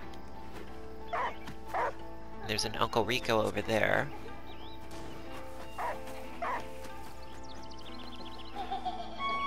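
A dog in the video game Last Day of June gives a few short barks and yips in bursts, moderately loud, while someone talks over the game audio.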